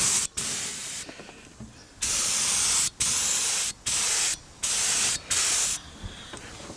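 Short and long bursts of a spray can hiss close by as a coat goes over damaged pieces, about six strong blasts separated by brief pauses, with no talking.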